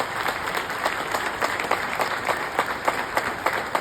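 An audience at a program applauds in a dense, continuous round of many hands clapping, loud and close throughout.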